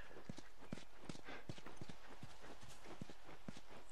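Steady, evenly paced clip-clop of horse hooves in The Last of Us, a run of distinct hoof strikes over a constant low background hum, fairly faint.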